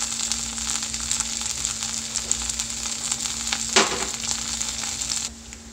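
Grated coconut frying with red chillies in a pan for radish chutney gives a steady, close sizzle, with one brief scrape or stir near the end.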